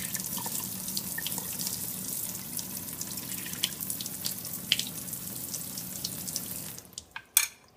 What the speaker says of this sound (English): this glass of water, when you add more water to it,